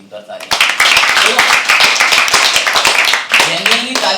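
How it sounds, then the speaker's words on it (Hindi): An open mic poetry audience claps for a performer, sharp close hand claps starting abruptly and continuing in a loud uneven patter for several seconds, with a voice speaking briefly over it. "डॉक्टर प्रणीता की एक बार ताली।"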